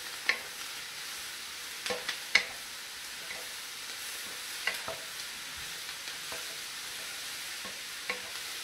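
Vegetables for veggie fried rice frying in a pan, a steady soft sizzle with scattered louder clicks and scrapes from stirring, heard alone at moderate distance.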